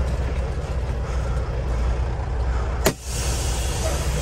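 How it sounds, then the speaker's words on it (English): A pallet-hauling truck idles and pulls forward out of soft mud at a Moses Lake, WA drop site, a steady low engine rumble throughout with a brief sharp hiss or clunk near the end. "Let's pull this forward out of this freaking mud."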